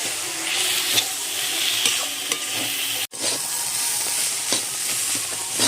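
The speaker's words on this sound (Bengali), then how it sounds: "এপাশে আমি শাকের তরকারিটা একটু নেড়ে চেড়ে নিচ্ছি শাকটাকে বেশ ভালোভাবে এবার ভেজে নেব" A vegetarian leafy greens curry is stirred and fried in a pan, with steady close sizzling and irregular scraping strokes throughout and one brief break near the middle.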